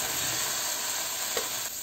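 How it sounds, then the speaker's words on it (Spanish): Ingredients with garlic sizzle while sautéing in a pan, a loud, continuous frying hiss with a faint stir near the end and no talking. "Voy a sofreír los ingredientes hasta que queden bien suavecitos, claro, cuidando de que nuestro ajo no se vaya a quemar."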